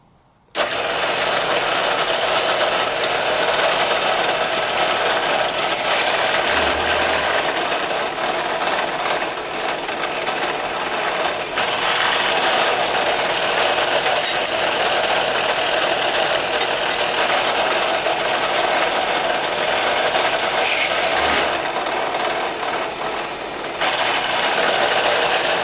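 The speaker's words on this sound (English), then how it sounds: "I'm going to drill a pilot hole." A steady, loud mechanical whir of a drill press running continuously while drilling a pilot hole with a small bit, with a brief change in pitch partway through and no talking.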